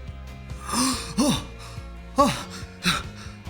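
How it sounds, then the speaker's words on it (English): A man takes his first breaths: a series of four or five close gasping inhalations and exhalations, uneven and breathy, with no words spoken. "Breathing."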